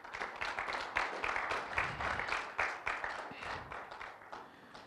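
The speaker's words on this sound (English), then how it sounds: "So can we give a warm applause to" A church audience gives a warm round of clapping during a servant-leadership talk, with dense, steady claps at moderate volume and no voices over it.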